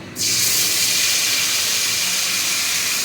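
A paste of tomato, ginger and green chili hits a hot pan in a home kitchen, setting off a sudden loud, steady sizzling hiss that carries on unbroken.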